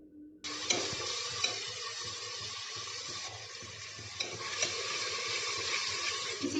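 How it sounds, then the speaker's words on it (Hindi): A paste of ground peanuts and tomato fries in a hot pan with a steady, close hiss and sizzle that starts abruptly. Light stirring clicks sound now and then, and no one speaks. "इसको थोड़ी देर फ्राई कर लेते हैं।"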